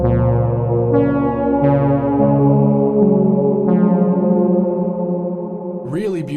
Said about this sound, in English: It actually allows us to add vowel sounds into our reverb.